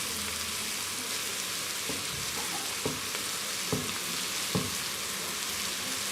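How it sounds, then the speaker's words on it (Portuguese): Onion sautéing in a pan with carrot just added, a steady quiet sizzle with a few soft stirring clicks scattered through, no talk. "eu agora já tenho aqui a cebola quase refogada. Vou juntar então aqui a cenoura."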